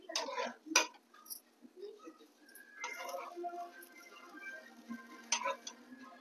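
A metal spatula clinks and scrapes against a hot griddle while flipping a lacy rice-flour pancake (dhirde), giving a few sharp clatters over a soft background, with a voice talking faintly underneath.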